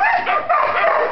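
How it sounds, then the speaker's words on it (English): Dogs in a crowded animal shelter bark and yip in a dense, overlapping chorus, close and loud for the whole moment. "This is just one side of the shelter and all the many, many, many, many,"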